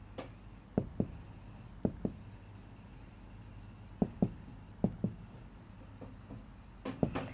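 Chalk or marker taps and short strokes on a board during a maths lesson on graphs, sharp clicks in small pairs spread across quiet room tone.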